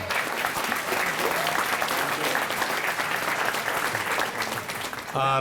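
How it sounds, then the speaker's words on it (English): Sustained applause from an audience at a St. Patrick's Day grand marshal breakfast celebration, a dense, steady wash of many hands clapping for several seconds before a voice begins at the end. "So let's give them a round of applause also."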